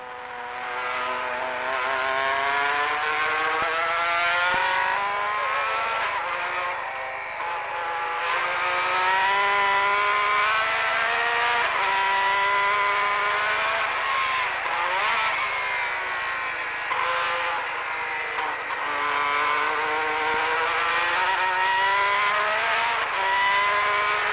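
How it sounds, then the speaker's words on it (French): Formula 1 race car engines from the turbo era screaming at high revs, a loud sustained howl rising and falling as cars accelerate and lift off, with no voices. "Pour moi, j'aimais bien ces moteurs avec un bruit très typique."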